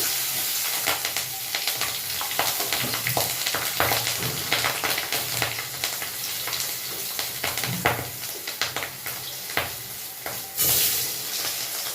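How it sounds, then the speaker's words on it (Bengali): Black cumin seeds and green chillies sizzle in hot oil left from frying pomfret, a dense continuous crackle with sharp spits and pops throughout and a louder hissing burst near the end. "এবার ওই একই তেলের মধ্যে দিয়ে দিচ্ছি কালো জিরে আর কাঁচা লঙ্কা ফোড়ন"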